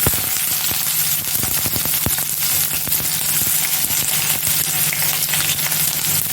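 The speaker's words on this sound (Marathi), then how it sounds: "फोडणीसाठी घेतलेला मी कांदा आहे तो कांदा टाकते" Chopped onion hits hot oil in a kadhai, a dense, loud crackling sizzle with sharp pops scattered throughout, steady for several seconds with no voices.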